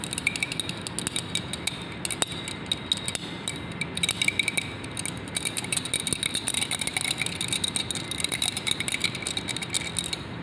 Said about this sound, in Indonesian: kalau ini saya kocok pakai batang pengaduk